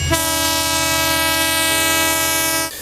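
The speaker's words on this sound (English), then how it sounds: "The sound signaling takeoff from the Ibute Metro station onward Lily Pond in Apapa" Train horn sounding for departure from the Ibute Metro station bound for Lily Pond in Apapa, a loud, sustained, steady chord-like blast held for over two seconds before cutting off abruptly, with no talk.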